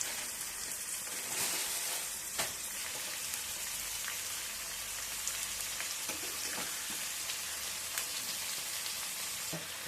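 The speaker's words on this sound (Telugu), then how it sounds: "ఈ ఉల్లిపాయలు, టమాటా, జీడిపప్పు కొంచెం ఒక 5 మినిట్స్ ఉడకనివ్వాలన్నమాట. ఒక దోరగా మగ్గనివ్వాలి నూనెలో." Onions, tomato and cashews fry in hot oil in a pan for a gravy, giving a continuous soft sizzle with a few faint stirring clicks. The sound is close and even, and no one speaks.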